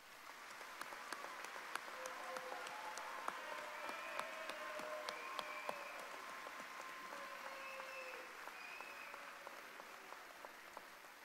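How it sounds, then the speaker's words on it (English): A large commencement audience applauds graduating students at Southeast Missouri State University's fall ceremony, with sustained, even, distant-sounding applause and scattered sharp individual claps. Faint voices rise through it throughout. "please join me in a round of applause for these students"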